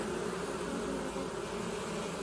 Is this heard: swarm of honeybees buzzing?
yes